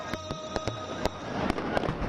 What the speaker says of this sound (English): a spectacular fireworks display lit up the sky, filling the air with joy and devotion